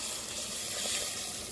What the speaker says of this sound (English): as soon as I add this liquid what happens